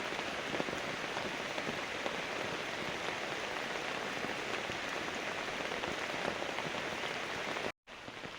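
Heavy rain pours steadily in a dense, continuous hiss, loud and close throughout, with a brief dropout near the end.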